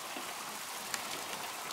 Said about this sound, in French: Oh là là, mais il pleut bien là.